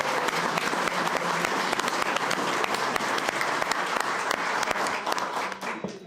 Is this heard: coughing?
no